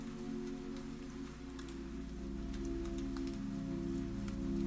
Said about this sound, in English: the sound of rain on the roof above you